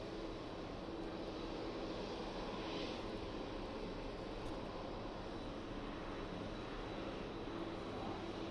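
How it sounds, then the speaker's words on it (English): KLM Embraer jet about to touch down at Birmingham Airport, a faint, distant, steady engine rumble that continues evenly throughout without talk. "KLM Embraer about to touch down."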